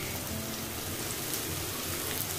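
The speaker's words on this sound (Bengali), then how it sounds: "পেঁয়াজটাকে আমি একটু ভালো করে ভেজে নিব" Onion frying in a pan makes a dense, even sizzling hiss, soft and steady with no speech.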